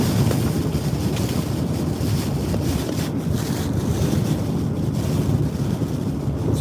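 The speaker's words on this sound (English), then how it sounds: "Winds are getting stronger and stronger." Hurricane Ida winds buffet a car crossing a big bridge in Louisiana, a steady loud roar and rumble of wind against the vehicle and microphone with no pauses and no talking.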